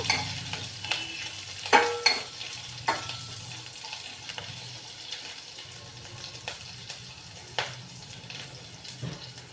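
Green chillies and dried red chillies fry in a pan, with soft continuous sizzling under sharp intermittent clinks and scrapes from a stirring utensil, close up and without talk.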